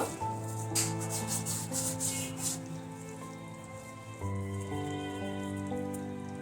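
Dried fenugreek leaves (kasuri methi) rubbed between the palms over a simmering fish curry, a soft, close dry rustling in a few short strokes over a steady background hum.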